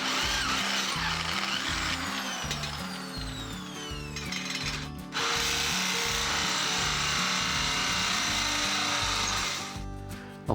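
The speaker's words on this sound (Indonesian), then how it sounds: "Pada kedua sisi bagian dari frame diberikan lubang dengan cara dibor" A power drill grinds steadily into the steel frame of a homemade agricultural shredder, boring holes for bearing block mounts, with a pulsing, rhythmic bite and metallic squeal, briefly easing midway before resuming at full strength.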